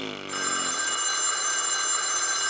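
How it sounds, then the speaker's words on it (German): A cartoon telephone rings with a bright, continuous electronic trill that begins abruptly and sustains loudly to the end, with no talking. "Ich denke, ums Telefon sollte ich mich lieber selbst kümmern."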